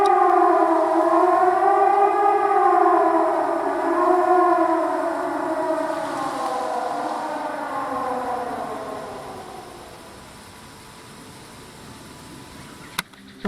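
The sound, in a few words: siren wailing in the video game Season: A Letter to the Future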